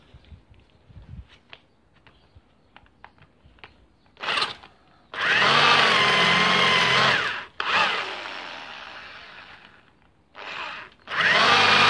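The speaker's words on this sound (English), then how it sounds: "I'm going to drill that in a bit further." A power drill bores into a wooden log leg of a homemade log reindeer, whirring in several loud sustained bursts with short pauses and rustling handling sounds between them.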